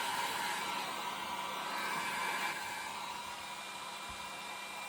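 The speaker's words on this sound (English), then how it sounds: "just going to use my little hair dryer here because it's cool" A small hair dryer on its cool setting blows over freshly heat-set embossing on a card, giving a steady close airy whir that drops slightly in level partway through, with no talking.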